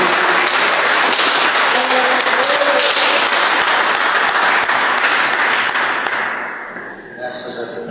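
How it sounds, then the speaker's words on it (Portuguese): Church congregation applauding together in joyful praise to Jesus, a dense sustained wash of clapping with some voices mixed in, loud and steady for most of the time before thinning out near the end. "Quem pode dar uma salva de palmas bem alegre para Jesus?"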